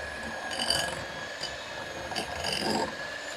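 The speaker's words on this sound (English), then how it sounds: "I'm whisking the yellow butter." Yellow butter is whisked by hand in a bowl for a cake batter, making a continuous close rasping, scraping sound with uneven swells as the whisk strokes back and forth.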